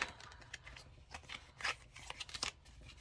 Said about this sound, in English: That was just like a bad shuffle on my end.